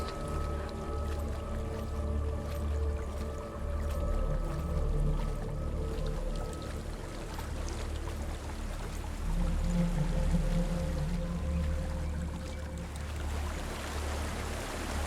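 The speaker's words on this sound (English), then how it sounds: "There's a waterfall." Steady rushing waterfall in the video game Hellblade: Senua's Sacrifice, a continuous broadband roar of falling water with low rumble beneath, constant and fairly loud throughout with no talking.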